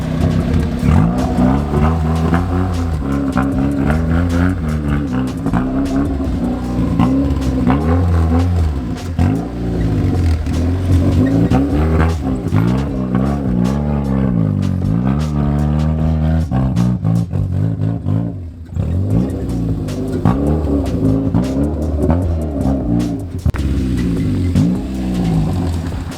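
A lifted Honda CR-V crawls off-road in low gear, its engine revving steadily and rising and falling in pitch with throttle pulses, loud and close throughout.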